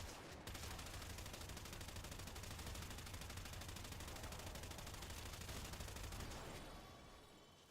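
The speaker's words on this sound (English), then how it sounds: "Full auto shotgun." A full-auto shotgun in Warframe fires in a relentless, rapid stream of blasts for several seconds, loud and unbroken, before the volley tapers off at the end.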